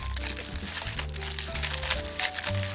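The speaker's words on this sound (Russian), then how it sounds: "Завернем его снова в бумагу" A rolled dessert is wrapped in paper again, with brief close crinkling and rustling over background music.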